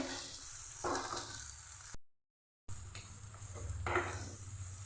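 Onions frying in a pan, a steady close sizzle with occasional stirring clatter, broken by a short gap of silence before the frying resumes.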